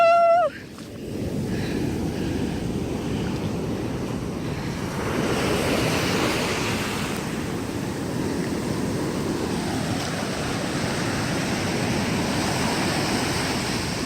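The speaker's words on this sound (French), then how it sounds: "Ouh, la grosse vague." Ocean waves break on a shore on Réunion Island in a steady, loud wash of surf with heavy wind buffeting the microphone. A brief high-pitched tone sounds at the very start.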